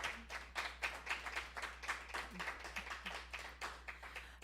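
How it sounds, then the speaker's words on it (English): An audience at a Christmas farewell show claps in a rhythmic, pulsing pattern, steady beats roughly several per second, fairly soft and evenly paced throughout. "Another round of applause."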